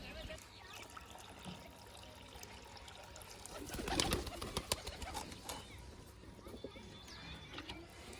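Pet pigeons at grain and water, pecking with soft taps and trickles while low cooing rises now and then, close but quiet, with faint talk in the background.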